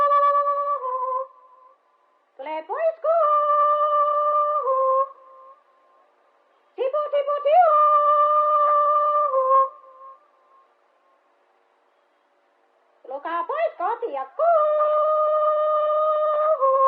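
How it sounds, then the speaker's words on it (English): Finnish cow-calling songs: wordless high, wavering sung calls rise and hold in long phrases separated by pauses, sounding like an old, thin archival recording. "The sounds you can hear are those of archive recordings of Finnish cow-calling songs"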